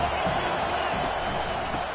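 A stadium crowd at a college football game roars in a steady, dense wash of cheering and shouting as the defense lines up on third down, loud and continuous with no gaps.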